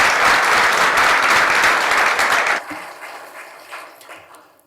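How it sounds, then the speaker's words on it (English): Audience applause for a community panel in Birmingham: dense, loud clapping for about two and a half seconds, then quickly thinning to a few scattered claps that fade out. "Let's give them a round of applause."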